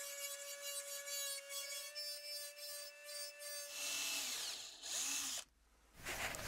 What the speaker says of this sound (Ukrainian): Придамо рельєфу фрезою.